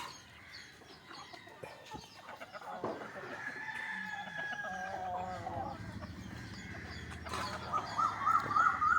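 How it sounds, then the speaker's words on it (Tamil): Country roosters crow in long rising calls over a steady bed of hens clucking, with several birds close by and the flock growing louder toward the end. "நம்மகிட்ட நிறைய சேவல் இருக்குது ப்ரோ"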